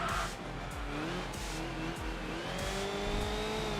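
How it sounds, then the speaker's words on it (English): Racing car from Enthusia Professional Racing braking hard into a hairpin, with a steady engine drone, tire squeal and downshift-like pitch changes running continuously and loud throughout. "Heavy braking now into the hairpin"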